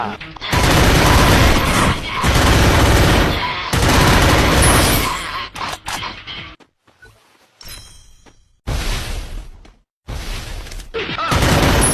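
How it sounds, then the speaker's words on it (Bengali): Loud gunfire in a shooting video game, dense bursts of rapid shots and booms in long stretches broken by brief quieter gaps. "চালা গুলি চালাও"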